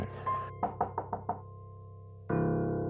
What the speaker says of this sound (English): A light knock came at the door.